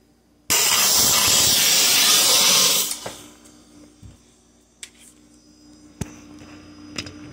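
A loud, steady rush of air blown through the drain line of a leaking Frigidaire side-by-side refrigerator bursts in and roars for about two and a half seconds, then cuts off, leaving faint clicks and light knocks.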